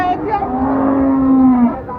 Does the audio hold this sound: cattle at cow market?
yes